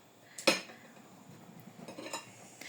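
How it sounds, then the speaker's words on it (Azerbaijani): A spoon scrapes persimmon flesh into a bowl, giving one sharp clink of metal on the dish followed by softer scrapes and taps, quiet and close. "qaşıq vasitəsilə içini təmizləyib atırıq belə bir qaba"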